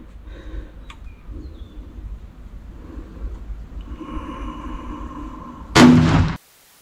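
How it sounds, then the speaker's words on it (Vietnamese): A single test shot is fired from a gun fitted with a Sightmark digital scope, one sharp loud crack near the end after quiet rustling, then abrupt silence. "chỉnh này mình bắn thử viên nha"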